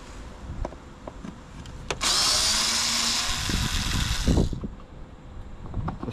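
A power driver with a socket whirs loose a screw on a Mercedes-Benz 906 Sprinter air filter housing, a single steady two-second burst up close, framed by light clicks and handling clatter.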